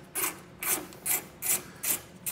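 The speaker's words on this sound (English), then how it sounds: "we're going to be taking three T15 screws out" Screws being backed out of a vehicle panel with a T15 driver, five evenly spaced ratcheting clicks, close and moderately loud, with no talking.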